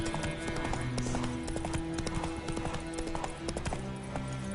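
Roach, a horse in The Witcher 3, walks with steady clip-clop hoofbeats over continuous game ambience and music, with a brief neigh-like sound and some faint speech layered in.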